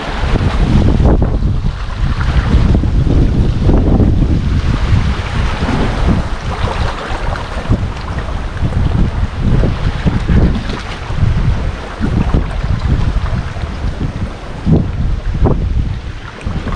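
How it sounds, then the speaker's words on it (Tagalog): Strong wind at sea on a small fishing boat in stormy weather, roaring loudly and continuously with heavy gusty buffeting against the microphone and water sloshing beneath. "Ah, lakas ng hangin."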